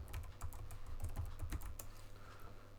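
Fingers tap out a short entry on a computer keyboard, soft rapid clicks over a low background hum, quite faint and close.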